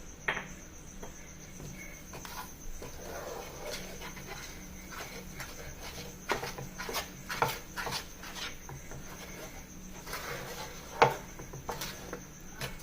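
Cashew barfi (kaju barfi) mixture stirred in a pan, giving soft intermittent scraping and tapping with a few sharper knocks over a steady faint high hiss, close and quiet.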